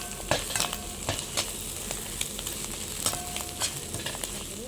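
Green chillies, beans, capsicum and cabbage stir-fry over high flame, a steady sizzle broken by repeated scrapes and clacks of a spatula against the pan, up close with no talking.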